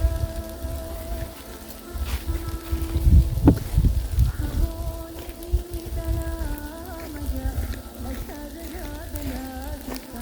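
Soft continuous sizzling and crackling of potatoes frying in a covered pan, close, with a few louder pops and a faint hum in the background.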